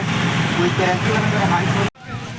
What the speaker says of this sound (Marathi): इथून गाड्या जातात नेपाळला.